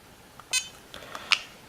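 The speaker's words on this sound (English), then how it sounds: "the alarm tone" Short electronic alarm beeps from an ISDT BG-8S battery checker, a couple of clear, close, high-pitched tones among faint clicks in a quiet room.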